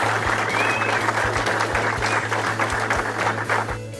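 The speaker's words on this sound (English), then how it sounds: "Give them a big round of applause for supporting us." Steady applause from an audience at a musky fishing tournament awards ceremony in Eagle River, continuous clapping throughout with background music underneath.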